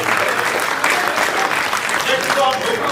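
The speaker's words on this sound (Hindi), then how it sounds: "अब एक बार तालियां बजा दीजिए" Audience applause at a poetry gathering, a steady, dense clapping that fills the whole stretch at an even level, with a faint voice or two mixed into the crowd.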